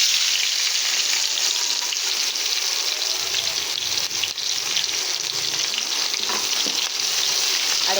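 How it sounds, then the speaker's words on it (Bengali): Chopped onions hit hot mustard oil already used for frying fish, along with a bay leaf, dried chillies and five-spice, giving a loud, steady, close-up sizzle that keeps going without a break. "কেটে রাখা পেঁয়াজ দিয়ে দিচ্ছি।"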